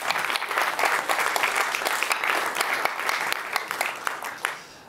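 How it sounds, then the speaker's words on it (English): A conference audience gives a steady, dense round of applause for a talk introduction, loud and sustained, then tapering off at the end. "So please give him a nice round of applause"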